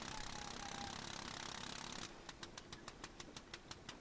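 A WWI-era aircraft engine in the flight-sim game IL-2 1946 after landing, first running as a dense steady roar, then abruptly dropping to a slow, rhythmic knocking idle of evenly spaced beats.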